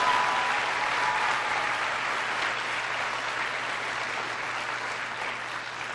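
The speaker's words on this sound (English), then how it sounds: "Give your teachers a big round of applause." A large audience at a presidential education speech at a school gives teachers a sustained round of applause, a dense, steady roar of clapping with no talking over it.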